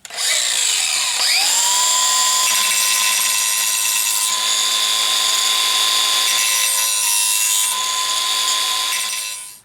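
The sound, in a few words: angle grinder grinding steel blade spine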